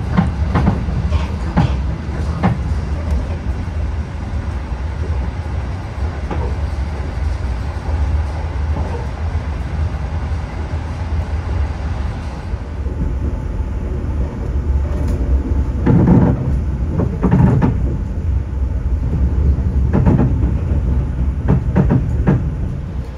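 Riding inside the Argo Muria new-generation passenger train in Indonesia, a steady rolling rumble fills the cabin, with occasional louder knocks and rail clatter toward the end, and no talk.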